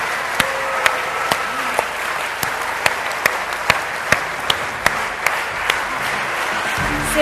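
Steady audience applause fills an evening talk event in Indonesia, a dense wash of clapping with sharper individual claps popping out at a regular pace, loud and continuous throughout.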